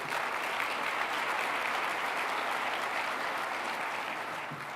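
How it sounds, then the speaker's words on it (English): A large audience at a State of the City address in Phoenix applauds in a dense, continuous wash of clapping that holds steady and fades slightly at the end. "Let's give her a big round of applause, please."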